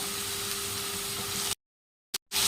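Garlic and onion hitting hot oil with mustard seeds and cumin in a pan, a steady soft sizzle with a faint hum, then abruptly cut to silence and resuming briefly.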